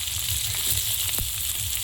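Chopped onion hitting hot oil in a kadai, a continuous close hiss and sizzle that holds at an even level throughout.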